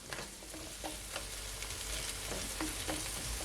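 Carrot cooking in a pan over low to medium heat on a stove, a soft, continuous sizzle with light stirring scrapes, quiet and close, with nobody speaking.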